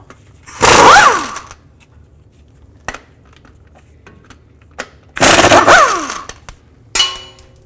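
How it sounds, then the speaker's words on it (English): An impact or power tool rattles loose transmission mount bolts with a 15mm socket on a 2000-06 Chevy Tahoe, two loud, close bursts of about a second each, separated by quiet pauses with a few clicks. "Take a 15mm socket, take these 2 bolts out."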